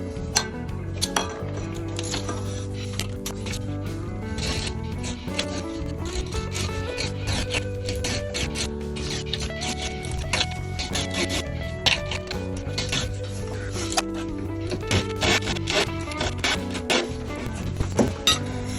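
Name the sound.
hand saw cutting a wooden dowel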